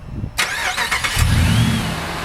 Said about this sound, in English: Now start the bad ignition and you should be up and running.